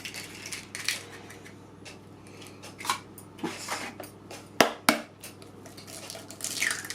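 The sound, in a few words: cracking eggs for a yoghurt cake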